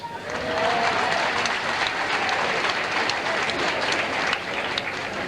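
A crowd applauds steadily, a dense wash of clapping that holds at an even level from start to finish with no voices standing out.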